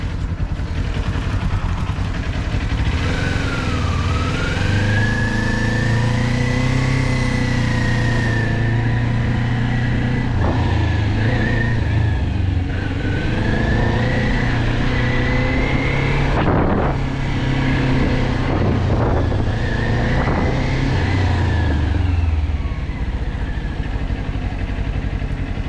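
Motorbikes ride around a practice track, their engines droning and rising and falling in pitch as they pass, loud and continuous with some wind buffeting over the whole run.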